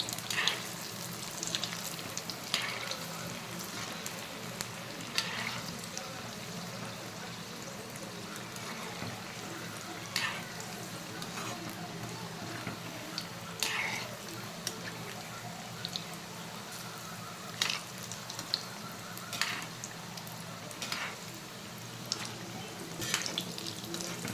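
Banana flower kola balls frying in hot oil, a continuous soft sizzle and bubbling with small crackling pops throughout, steady and close.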